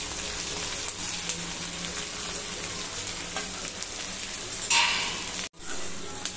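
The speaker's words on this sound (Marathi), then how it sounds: "इथे, कांदा आपला छान परतून परतलेला आहे" Spring onions, garlic and green chilli fry steadily in a pan, a dense close sizzle that runs throughout, with a brief scraping stir near the end and a momentary break just after.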